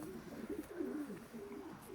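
A dark check pigeon hen cooing softly while held in someone's hands, low throaty coos running through the two seconds, fairly quiet and close.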